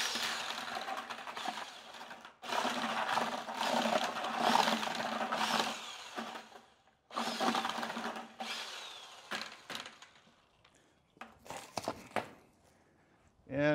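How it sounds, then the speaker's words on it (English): A power drill fitted with a mixing wand whirs in several bursts, starting and stopping, its motor grinding as it churns thick concrete mix, with short pauses between runs. "I'll mix that up. It's just a mixing wand on my drill."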